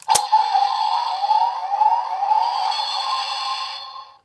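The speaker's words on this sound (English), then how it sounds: "with the henshin, you have the wolf howling at the end" After a sharp click, an electronic wolf howl from a Dekaranger Master License toy rises and wavers steadily for about four seconds, tinny and close.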